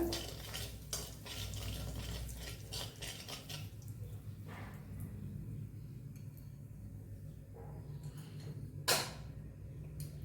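Spinach in a pan gets stirred with a hot ghee and red chilli tempering, the gas turned off: close, steady scraping and clinking of a utensil against the pan, with a brief louder clatter near the end and no talk.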